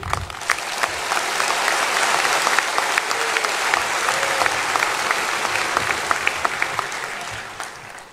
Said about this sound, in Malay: Tidak cukup tepukan itu, saya fikir.